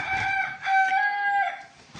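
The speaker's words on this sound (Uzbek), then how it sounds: "Juda yo'ldor xo'roz." A rooster gives a single loud, close crow, a drawn-out harmonic call of about two seconds with no speech over it.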